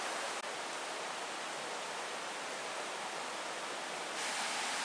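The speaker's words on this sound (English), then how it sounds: "I can see part of a waterfall right there" Distant rush of a waterfall at Shining Cloud Falls in the Porcupine Mountains, a steady broadband roar that holds level throughout with no voices.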